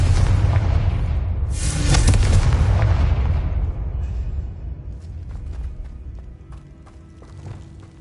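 Spell explosions from fire and blasting charms in the Hogwarts Legacy video game: a loud, booming burst with a bright crackling tail that decays over several seconds into a low rumbling echo, with faint scattered clicks afterward.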